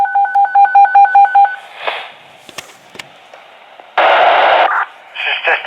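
Fire mutual aid pager test tones sound over a KWO35 weather radio broadcast: a rapid series of loud, evenly spaced beeps, then scattered radio clicks and two bursts of hissing static.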